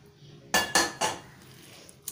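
Spiced chicken is mixed in a bowl, giving three quick metallic clinks of a utensil against the bowl in close succession, followed by near quiet.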